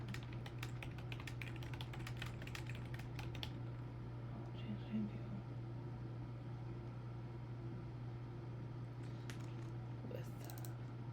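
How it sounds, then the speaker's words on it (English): Computer keyboard typing while working on a software app: a rapid burst of clicky keystrokes early on, then quieter scattered taps over a steady low hum, with a few more clicks near the end. "me just typing things out"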